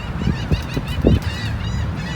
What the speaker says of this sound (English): The birds have a lot to say today, you all.